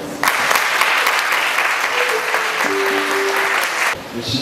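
A church congregation applauds in praise at a service celebrating the presentation of twins, loud sustained clapping from a crowd that fills the room, with a few voices calling out beneath it before it fades.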